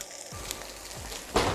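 Roasted tomatoes sizzle steadily in a hot pan, a continuous crackling hiss with a louder burst of spitting near the end, heard alone without voices.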